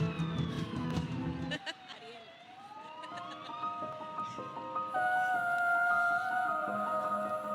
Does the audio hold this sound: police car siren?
yes